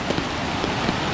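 Heavy, steady rain pours down on a rural farm trip, a dense, continuous wash of close, loud patter with scattered heavier drops and no voices.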